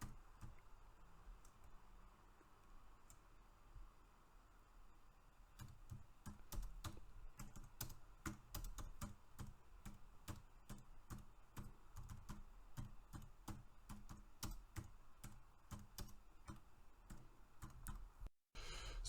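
Typing on a computer keyboard, a quiet start giving way to rapid, close, irregular key clicks that run steadily for most of the passage, with no talking.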